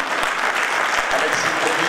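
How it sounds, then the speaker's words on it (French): A conference audience applauds steadily in a dense, continuous patter of many hands during a political peace gathering, with faint voices mixed in. "Alors il faudrait applaudir le délégué de Danemark"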